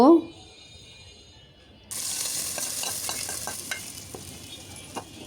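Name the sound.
frying and stirring in mustard oil until golden brown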